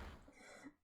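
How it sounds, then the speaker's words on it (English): A single short, raspy cough close by, fading off quickly with no talking. "Sorry, my cough."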